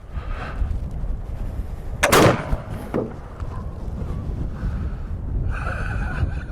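A four-bore flintlock elephant rifle fires outdoors: one heavy, booming shot stands out, with a short rumbling tail, against wind and quiet breathing before and after.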